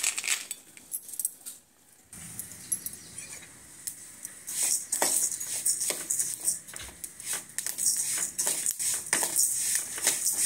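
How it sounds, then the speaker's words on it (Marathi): Peanuts dry roasting in a pan for chutney give faint, scattered clinks and rattles as they are stirred and tossed, a soft scraping under quick light taps that grow busier over time. "आता छान आपण भाजून घेऊया याला."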